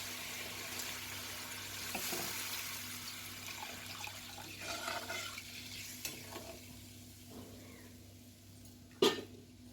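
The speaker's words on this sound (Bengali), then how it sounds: "এবার আমি সামান্য জল দেব।" Water poured into a pan of frying curry with the oil separated, a soft steady pour and stirring with faint sizzle, ending in a sharp clink near the close.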